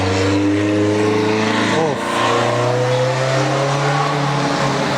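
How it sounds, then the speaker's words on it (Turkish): Loud car engines roar and rev on a city street in America, a continuous close drone with one engine sweeping up in pitch, as a person talks over the noise. "Ne kadar çok ses çıkarıyor bu bazı arabalar ya."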